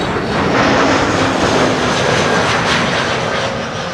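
A jet airliner lands on the Kaagbaan runway at Schiphol Airport, a loud, steady engine roar filling the whole stretch with a faint whine above it, fading slightly at the end.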